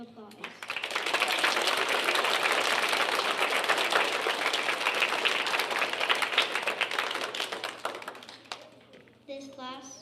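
Audience applause fills a fourth grade elementary school concert, a dense, steady roar of clapping lasting several seconds before fading out, followed by a brief voice afterward.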